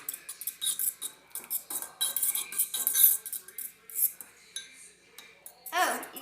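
A fork rapidly beats eggs in a bowl, giving bursts of quick metallic clinking and scraping with short pauses, close up, and a voice is briefly heard near the end.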